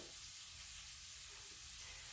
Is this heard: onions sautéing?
yes